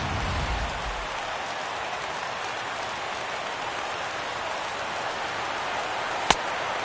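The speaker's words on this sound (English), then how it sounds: "Well, the rain is coming down hard here." Heavy rain pours in a PS4 baseball video game, a dense, steady hiss that runs unbroken throughout, with one sharp click near the end.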